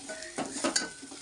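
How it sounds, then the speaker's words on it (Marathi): A spoon stirs chicken curry with turmeric in a pan, giving a few soft scraping strokes over a faint sizzle, close by and fairly quiet, with a louder clink at the end. "आता चमच्याने ते फिरव ना."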